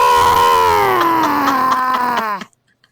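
A human voice imitates a throaty, strangled, upsetting scream, held loud and wavering for over two seconds with a slowly falling pitch before cutting off abruptly.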